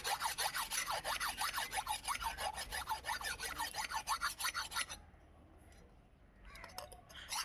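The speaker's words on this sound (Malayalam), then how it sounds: "അരം വെച്ചിട്ട് നമ്മളിപ്പോൾ വരയ്ക്കണേ" A metal file rasps across an old knife blade being reshaped and sharpened, close and loud in quick steady back-and-forth strokes for about five seconds, then stops, leaving a quieter stretch with faint scraping near the end.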